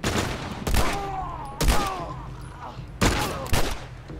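Gunfire in The Last of Us Remastered: several sharp, loud in-game gunshots strike at irregular intervals, each with a brief ringing tail, over a low ambient game bed.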